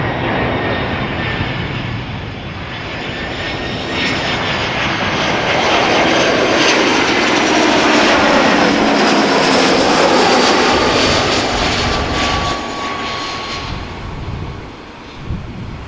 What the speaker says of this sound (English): This is EasyJet flight 28672 arriving from Gatwick,